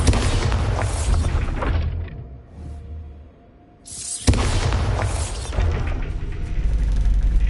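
A Bombarda spell blast in Hogwarts Legacy lands as a heavy boom, set against dense game ambience that dips into a quiet stretch before a sharp burst and rumbling debris return loudly.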